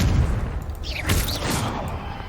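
Confringo blast spell in the video game Hogwarts Legacy, a rumbling boom with a burst of crackling debris, low and heavy, followed by a short whooshing swirl of magic.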